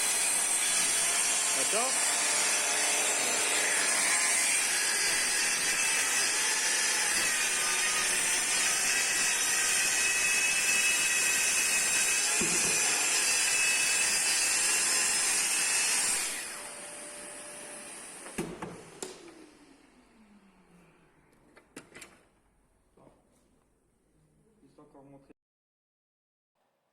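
A portable circular saw cuts a piece of wood, a loud, steady high whine that runs for about sixteen seconds, then winds down with a few clunks and rattles. A brief spoken word comes near the end.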